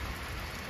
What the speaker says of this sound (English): besides enjoying the rain this morning